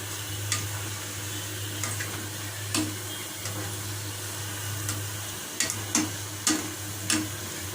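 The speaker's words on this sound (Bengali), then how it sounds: "এগুলো খুব মচমচে করে ভাজার দরকার নাই, জাস্ট ভালো মতো একটু ভাজা হলেই উঠিয়ে নিতে হবে।" Drops of boondia batter frying in hot oil give a steady low bubbling sizzle, broken by occasional faint clicks and taps from a utensil, with no speech.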